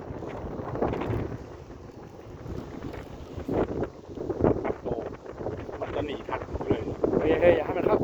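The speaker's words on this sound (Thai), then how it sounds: "นี่ครับลมแรงนะครับ ไม่ได้โม้นะครับ" Strong wind buffets the microphone at an outdoor field where a one-metre-wing Sporter RC plane with a 2217-1750 motor is flying, making a rough, gusting rumble that swells and eases, with faint voices underneath.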